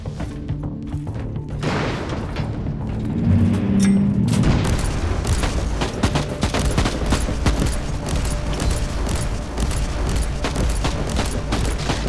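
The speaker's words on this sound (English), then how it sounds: "so I can try out this plasma gun" Plasma gun fire in the video game Inquisitor Martyr rings out as a dense, continuous barrage of booming shots and crashes, loud and unbroken, with no talk over it.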